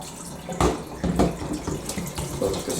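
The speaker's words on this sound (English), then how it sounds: "Get the hot water running." Hot water runs steadily from a tap into a sink while a washing machine is being cleaned, a close, continuous splashing rush with a few louder surges.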